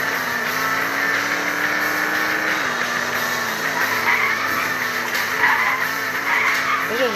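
Car skidding and drifting, tires squealing continuously over a steady engine drone, loud and close, the screech rising and wavering throughout without a break.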